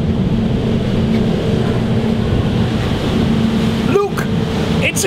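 Riding on a boat on the water, a constant rumbling engine hum with wind noise buffeting the microphone, steady and close, with a brief clatter near the end.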